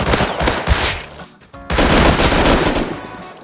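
Rapid gunfire rattles in Rust, loud and close, in two dense automatic bursts split by a short pause.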